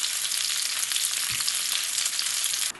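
Fish fries in a covered pan over low gas with a steady constant crackling hiss, close and fairly loud, with no talking.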